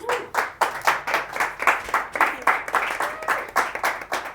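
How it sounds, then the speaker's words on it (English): A small audience at a mind-reading magic show gives a brief round of applause: a rhythmic patter of clapping in clear, regular bursts, fairly close and unaccompanied by speech. "Nice round of applause."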